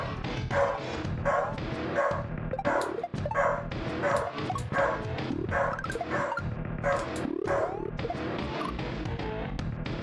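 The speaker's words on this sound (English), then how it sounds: "He's barking because the UPS truck is outside." A dog barks repeatedly indoors at a delivery truck outside, loud and close, in a rapid, steady run of sharp barks and yips, some with a whimpering edge, continuing without pause.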